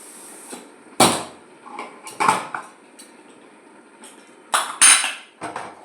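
A metal cooking pot of milk clanks and scrapes in separate bursts, bright clattering knocks spaced irregularly with quiet pauses between, close and fairly loud.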